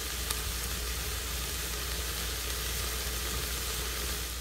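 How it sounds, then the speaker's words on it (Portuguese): Beef sautés in a pot for vegetable soup with a steady, even hiss of sizzling that stays constant and moderately quiet, with no speech. "Agora eu vou deixar ela refogar um pouquinho."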